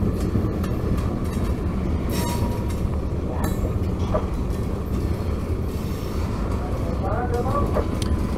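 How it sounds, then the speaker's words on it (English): Long freight train with over 660 axles rolls past near Cordele, a continuous heavy rumble of wheels with faint squeals and clicks throughout, a voice talking over it. "This was a long train. It had over 660 axles."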